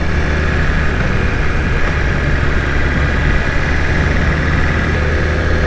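Engine of a BMW S1000RR motorcycle on a back-road test ride, a steady loud droning hum with constant low rumble and wind, no speech.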